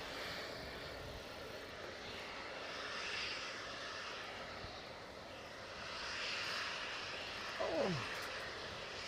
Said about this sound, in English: No, that's a helicopter.